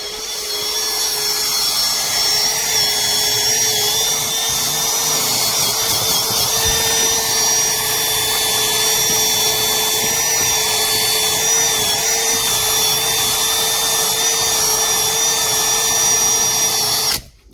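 A power tool fitted with a wire brush cleans the inside of a punctured KTM motorcycle tire, giving a loud, steady high whine with a gritty scrubbing texture that runs continuously for about seventeen seconds before cutting off.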